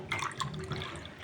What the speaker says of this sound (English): I'll add in a little bit water,